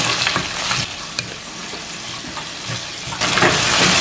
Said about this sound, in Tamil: இப்போ இதையும் இதில் போடுங்க. போட்டு நல்லா மிக்ஸ் பண்ணி போட்டு வதங்க விடுவோம்.